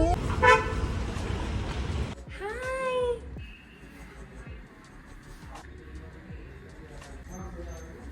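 A cat meows loudly inside a car on the way to a pet clinic, with one rising cry near the start and another around three seconds, then quieter road noise with faint horn toots and occasional voices.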